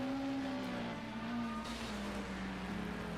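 Porsche race car engine in a racing video game, a steady droning tone at a fairly constant pitch that drifts slightly lower as it holds. It is faint and continuous, with no talk over it.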